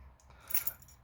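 Keys on a custom keychain jangle in one brief metallic clink and rattle, close and fairly quiet against a low background hum.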